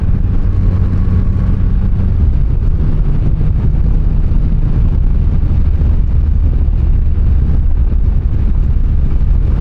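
A Rocket motorcycle rides the back roads of Eastern Tennessee, its engine a steady low rumble blended with constant wind buffeting across the microphone, loud and unbroken throughout with no voices.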